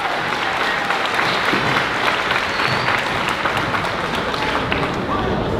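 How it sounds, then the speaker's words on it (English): Sustained applause fills a fifth-grade moving-up ceremony, a dense, steady wash of clapping from a large audience that holds evenly loud throughout with no pauses. "I think they deserve a huge round of applause because they've gone through a lot"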